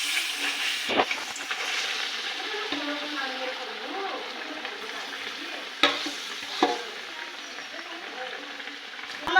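Rice flour dough sizzles and fries in hot oil in a home kitchen, a continuous crackling hiss broken by a few sharp stirring knocks, while a person talks nearby.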